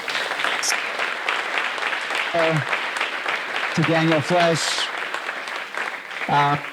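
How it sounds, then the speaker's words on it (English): Applause from the audience at a Zionism seminar panel runs as a steady bed of many hands clapping, while a voice speaks briefly over it several times. "A round of applause to"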